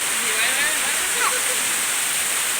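Steady rain pours down outdoors, a dense continuous hiss of falling water close by with no break, faint voices murmuring underneath.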